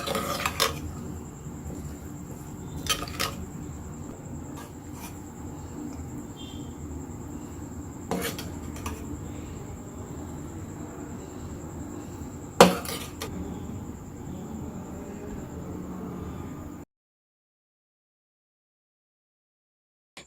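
Opening a pressure cooker of tomato rice, with faint metal clinks of the lid, pot and utensils tapping now and then over a quiet hum, one sharper clank near the end before silence.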